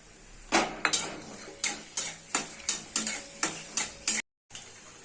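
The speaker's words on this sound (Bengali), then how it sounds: "আমি ভেজে তুলে নিচ্ছি এই মশলাগুলো, পেঁয়াজ, রসুন আর শুকনো লঙ্কা, কাঁচা লঙ্কা" Onion, garlic, dried and green chillies fried in oil and lifted out with a metal spoon, giving about ten sharp, evenly spaced clinks and scrapes against the pan over a faint sizzle, then a sudden stop.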